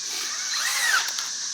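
A power drill fitted with an auger attachment whirs steadily at close range, its high motor whine rising briefly in pitch before settling.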